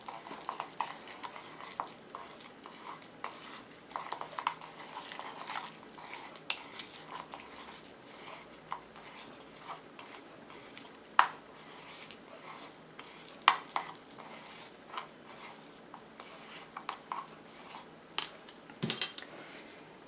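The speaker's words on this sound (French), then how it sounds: "Et je viens mélanger" Solid shampoo mixture with monoi being stirred in a bowl, producing soft, irregular scraping and tapping clicks close by, with small faint knocks scattered throughout and no talking.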